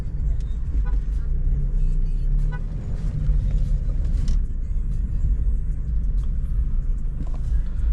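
A tuned Mercedes A200 cruising on the Yamuna Expressway, with a steady low engine and road rumble throughout, close and loud inside the cabin, plus a faint horn toot in the background.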